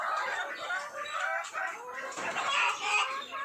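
BB38 laying hens cluck busily close by while a rooster crows among them, a lively, layered run of calls that rises and falls without pause.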